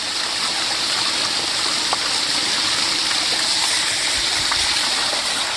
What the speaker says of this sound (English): It's gushing out here.